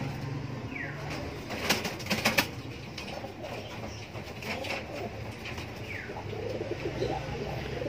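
A white-feathered racing pigeon coos softly in a loft, its low repeated calls mixed with faint chirps from other birds and the occasional flutter of wings in the background.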